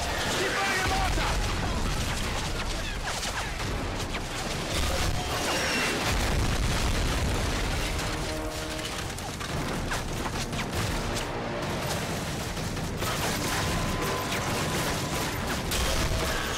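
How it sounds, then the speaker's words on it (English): Mortar shells bursting in Modern Warfare 3 gameplay, a rolling barrage of deep booms and crackling blasts layered one after another, with radio voices speaking over the din. "If it moves, put a mortar shell on it. Keep burning the mortar!"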